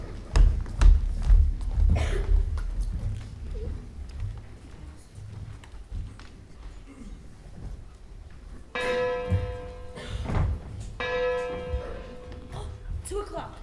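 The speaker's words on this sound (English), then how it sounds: "the clock strikes 2" A clock strikes two, with two loud ringing bell chimes a couple of seconds apart, each sustaining and decaying, following a stretch of scattered thumps, knocks and shuffling.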